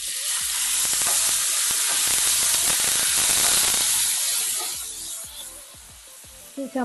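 Strawberries are dropped into a pan of lightly fried fennel seeds and set off a loud, steady sizzle and hiss that slowly fades, with a few clinks of utensils near the end.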